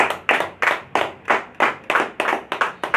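A church congregation claps together in a steady, even rhythm, about ten sharp claps in three seconds, loud and close with no voices.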